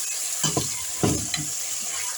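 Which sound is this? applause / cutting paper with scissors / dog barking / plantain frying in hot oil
plantain frying in hot oil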